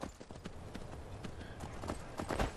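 Hooves clip-clop in a quick, steady rhythm on a hard surface in the video game Skyrim, fairly close and moderately loud, with no talking.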